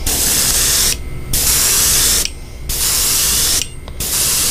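An aerosol can sprays a second coat of white paint in three long, loud hissing bursts, each separated by a brief pause.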